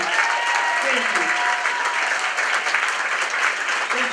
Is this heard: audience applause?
yes